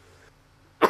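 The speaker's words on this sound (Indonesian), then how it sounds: "Saya sambil mohon maaf ya, ada batuk." A single short, sharp cough right at the end, loud and close, after a brief quiet stretch.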